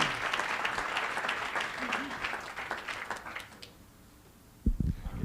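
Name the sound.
applause for workshop speakers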